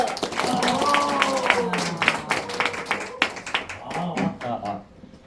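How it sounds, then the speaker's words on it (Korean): Audience clapping to welcome a guest lecturer onto a stage, a scattered round of claps mixed with voices and a steady tonal hum, thinning out near the end. "힘찬 박수로 모십니다"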